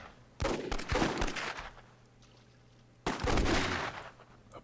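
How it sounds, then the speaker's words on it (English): Gunfire from a gunfight in the Myth II Soulblighter video game comes in two bursts of rapid, crackling shots separated by a quieter gap, faint and somewhat distant. "there's a gunfight shaping up over here"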